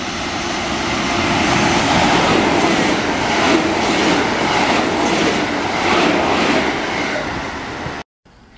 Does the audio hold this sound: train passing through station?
yes